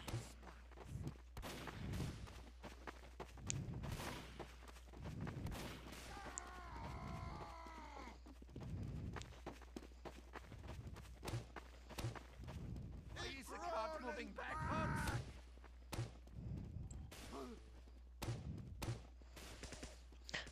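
Explosions and gunfire from Team Fortress 2 gameplay crack in sharp, scattered bursts throughout, mostly under continuous talk from a player.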